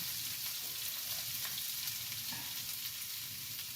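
Chopped onion goes into a pan of garlic already fried red for a fenugreek (methi) dal, setting off a steady, close, continuous sizzle and frying hiss with faint stirring and no talk.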